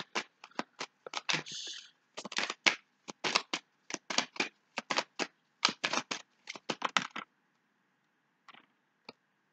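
Tarot cards riffled and snapped down in quick bursts of crisp slaps and flicks during a reading, close and fairly quiet, with a few sparse taps trailing off into silence at the end.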